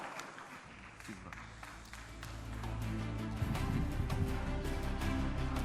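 Audience applause and clapping during a televised Indonesian vice-presidential debate, swelling from moderate to loud and sustained across the hall, with crowd noise mixed in.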